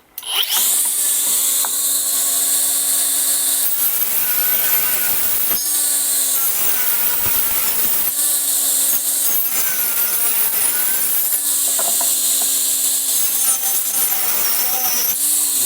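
A Stromo AGA 150 mini cordless angle grinder cuts through material with a loud, close, high whine that runs in several long bursts, briefly easing between cuts.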